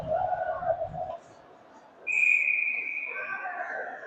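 A referee's whistle at a high school varsity ice hockey game sounds a single sustained shrill blast midway through, ringing over quieter arena murmur and a brief stretch of background voices.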